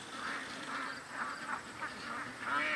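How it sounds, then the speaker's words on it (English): Ducks quack in repeated nasal bursts at a moderate distance outdoors near a creek, several calls coming in an uneven rhythm over a soft background. "the ducks are out, the coyotes are thinking they're getting a free meal, but Doug's running interference."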